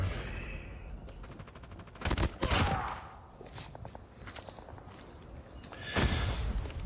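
Gunfire in Call of Duty Mobile from a .50 GS handgun fired akimbo, with several sharp shot bursts and rapid clicking in a busy game mix, loudest around the middle and end.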